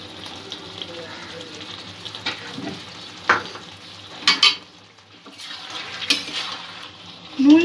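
Chicken sautéing with dry-roasted spices in a kadai: a low steady sizzle with intermittent sharp scrapes and clatters of a spoon stirring against the pan, and a voice speaking now and then.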